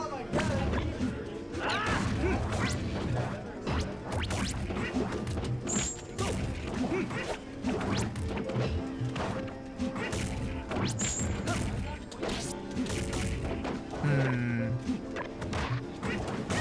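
Punchy hits, smashes and swooshes from a Super Smash Bros tournament match with Yoshi and Charizard, coming thick and fast over steady game music, with commentators talking throughout.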